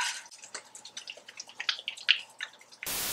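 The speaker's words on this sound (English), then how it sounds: "So all you do is pour your color into your developer, shake it on up." A plastic bottle of hair dye mixed with developer is shaken in quick, sloshing bursts, wet liquid churning and dripping against the sides, close and fairly loud, with a sharp noise at the very end.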